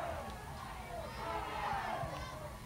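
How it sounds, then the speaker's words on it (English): A crowd of Oklahoma Sooners fans at a college softball game against Oklahoma State keeps up a steady, diffuse roar of cheering and shouting, heard from a distance at a fairly even level throughout. "You hear the Sooner crowd urging on"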